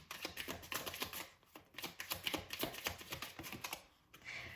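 Tarot cards are shuffled and pulled by hand, a faint, close, steady run of soft riffling flicks and taps with a brief pause near the end.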